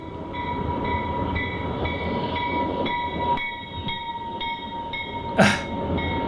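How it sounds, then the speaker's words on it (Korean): An approaching train rumbles steadily while a long, sustained horn-like tone holds throughout, with a brief sharp squeal near the end. "What's coming? A train!"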